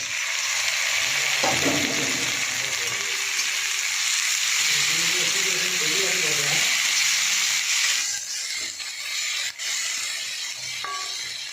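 A ground spice paste fries in a hot pan with a steady, bright sizzle and occasional stirring scrapes. It softens somewhat near the end, with no voices over it.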